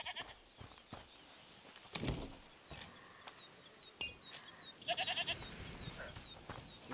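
A goat bleats in the video game A Plague Tale Requiem, a few short faint bleats heard indoors or nearby amid quiet ambience, soft clicks and light bird chirps.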